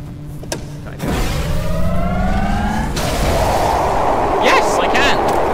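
A rising, whining charge-up tone from a weapon in the video game Trepang2, climbing steadily in pitch over a couple of seconds and then giving way to loud, dense gunfire and explosions of combat.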